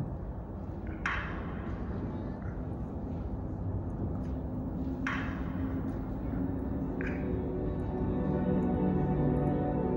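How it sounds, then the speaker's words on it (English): Aurora borealis sounds recorded outdoors under the northern lights: a low rumbling background with three sharp crackling clicks or pops spaced several seconds apart, fairly faint and distant. "That is the sound of an aurora."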